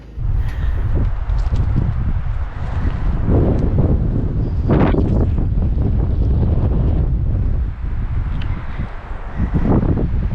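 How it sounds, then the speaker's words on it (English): Strong wind buffets the microphone in heavy gusts at a campsite in Sitgreaves National Forest, a loud rumbling roar that surges and eases over and over. "Can you hear the wind?"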